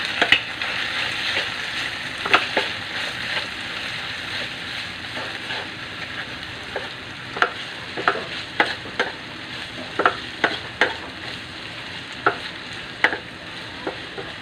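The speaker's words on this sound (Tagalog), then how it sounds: "Haluin natin." Food frying in a pan with salt, seasoning and calamansi, stirred with repeated sharp scraping clicks over a steady sizzle, close and moderately loud, no talking.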